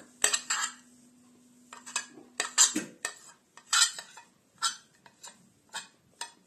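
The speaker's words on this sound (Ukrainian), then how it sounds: "І зараз будемо перемішувати, додаємо плавлений сирочок." A spoon stirs crab salad with processed cheese, garlic and herbs in a bowl, giving close, irregular metallic clinks and scrapes against the dish in quick bursts, with no voices.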